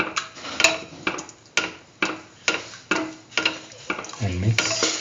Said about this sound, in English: Keep on sauteing. Thoroughly saute.